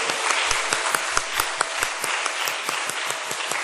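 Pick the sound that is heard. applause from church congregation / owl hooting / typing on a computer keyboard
applause from church congregation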